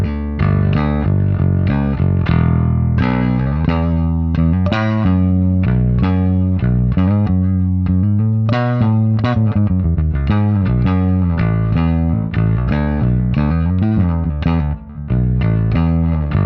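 A loud Dingwall Combustion electric bass with its mids boosted plays a steady, busy line with a thick, midrange-heavy tone and a touch of gritty effect, heard alone without talk.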